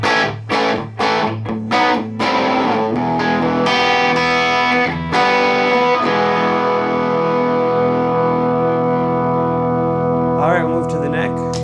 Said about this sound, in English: I'm gonna crank the amp a bit to get a little bit of that natural distortion